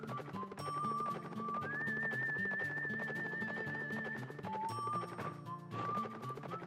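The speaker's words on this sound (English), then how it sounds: "Call whistle, this is why you exist." A call whistle blown in the video game Wild Arms 3, a sustained melodic whistle tone that rises and holds, then sounds again briefly, over game background music.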